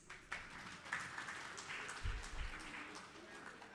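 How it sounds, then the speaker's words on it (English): Light, scattered clapping from delegates at a Commonwealth Hansard editors conference in Africa applauding themselves, fairly faint and uneven, with a few sharper claps and low rumbles mixed in. "May we clap hands for ourselves."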